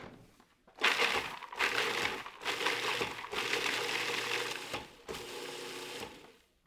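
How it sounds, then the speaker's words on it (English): A food processor grinds walnuts with salt and pepper for pesto in loud pulsing bursts, whirring and crunching in several long runs separated by brief stops. "now we'll grind this down until everything is finely chopped"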